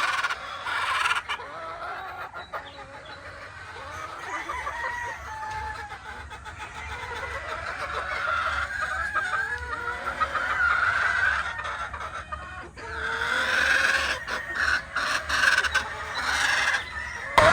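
A yellow-legged Hatch gamefowl hen clucks repeatedly at close range on a game farm, her varied, throaty calls rising and falling in irregular bursts over faint background noise.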